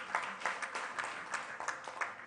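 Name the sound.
audience applause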